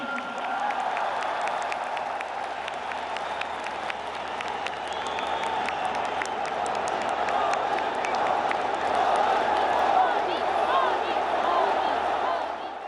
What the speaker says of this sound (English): Clearly a lot of cheering there for the Prime Minister speaking in Malayali there.